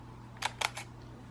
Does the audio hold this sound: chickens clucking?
no